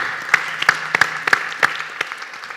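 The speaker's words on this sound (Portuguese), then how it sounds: "Mais uma salva de palmas." Scattered hand claps ring out, a few sharp claps spaced irregularly over a faint hum, like a small group applauding briefly.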